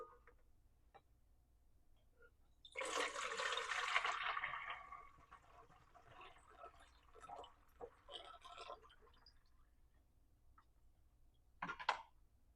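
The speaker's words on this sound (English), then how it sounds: "Now I'm going to pour it through the funnel into the bottle." Rice water is poured through a funnel into a bottle, a close, steady liquid stream lasting a couple of seconds, followed by quieter trickles and a few small clinks.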